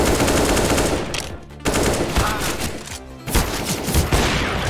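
Rapid gunfire from a player shooting in CS:GO, dense automatic bursts separated by brief pauses, loud and close.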